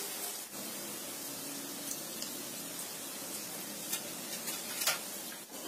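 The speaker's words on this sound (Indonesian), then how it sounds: "goreng sampai kuning keemasan ya" Cookie dough pieces fry in hot oil for Lebaran cookies, giving a steady, close sizzle with faint crackles and occasional ticks, no voices.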